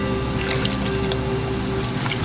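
Hot water running steadily over a dirt bike air filter, a continuous close splashing trickle with a faint hum underneath.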